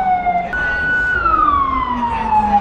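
A loud electronic siren at a rooftop bar wails with a steady tone that slowly glides downward, close and alone with no talking.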